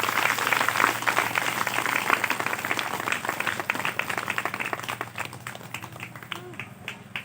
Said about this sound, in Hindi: सब ताली बजाएं यीशु मसीह के लिए।